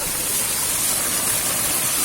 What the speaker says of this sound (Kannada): ಜಲಪಾತ